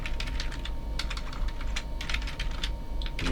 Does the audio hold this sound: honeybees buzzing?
no